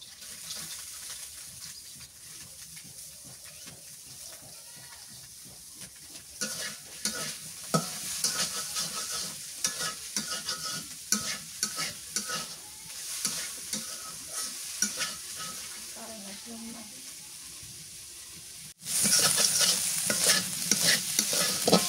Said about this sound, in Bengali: মাছ ভাজা হচ্ছে এবার একটু পেঁয়াজ কুচি দিয়ে দিই